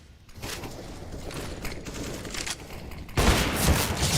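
Rapid bursts of AK rifle fire in CS:GO, a dense rattling volley that grows louder and closer toward the end, with crisp repeated shots over the game's ambient noise.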